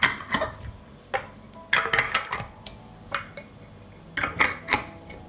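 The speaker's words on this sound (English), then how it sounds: "I close the jars with clean lids." Glass jars of tomato and cucumber salad being closed with clean lids, a string of sharp clinks and clatters of metal on glass arriving in irregular bursts, close and fairly loud with short pauses between.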